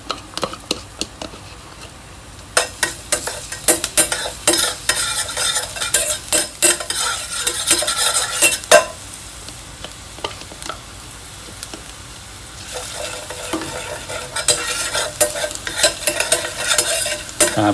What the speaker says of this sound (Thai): เราก็เติมกระเทียมลงไปนะครับ พอกระทะเราเริ่มร้อนแล้วนะเติมเลย